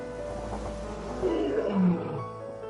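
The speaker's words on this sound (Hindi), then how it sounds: "इन दिनों इनकी दहाड़ भयानक होती है" Lions roar on the African savanna after a pride and other lions bring down a buffalo, a deep rumbling roar swelling toward the end, close and loud, with no talk over it.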